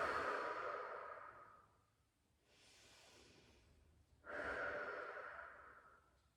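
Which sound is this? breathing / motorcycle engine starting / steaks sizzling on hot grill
breathing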